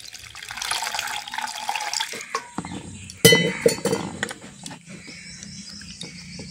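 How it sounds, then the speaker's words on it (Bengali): Water is poured into raw mango pulp to thin it for ice cream, a close splashing stream followed by clinks and scattered drips as it settles. "এবার জল দিয়ে আমি পাতলা করে নেব।"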